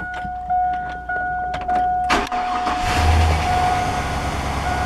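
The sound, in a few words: rattling engine of high-mileage truck idling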